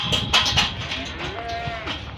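Several cows moo in overlapping, drawn-out calls, fairly close, over a steady murmur of background noise at a large cow farm, with no talking.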